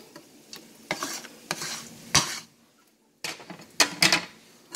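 Canned corned beef, twelve ounces, being stirred and worked into cabbage in a pan for a Jamaican fried dumplings meal, giving irregular scraping and clattering bursts with brief pauses, close and moderately loud, no talk.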